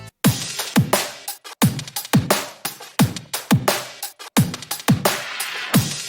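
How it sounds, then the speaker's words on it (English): Liquid drum and bass drum loop built in FL Studio: fast breakbeat of punchy kicks and crisp snares with bright, busy hi-hats, looping steadily and loud with no voice over it. "I added another drum loop."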